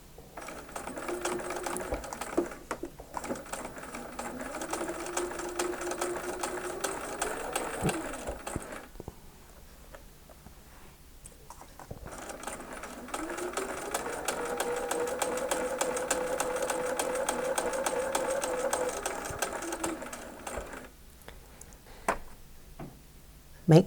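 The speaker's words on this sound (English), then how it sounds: "So I'm now going to stitch the first of these two seams." A sewing machine stitches a quilt seam for an eight-point star in two long runs of steady, rapid whirring and ticking, separated by a brief pause, close and clear.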